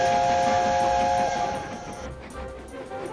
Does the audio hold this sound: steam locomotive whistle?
yes